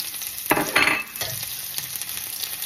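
Garlic and onion sautéing in a pan for pancit, a soft close sizzle broken by a few scraping stirs of a utensil.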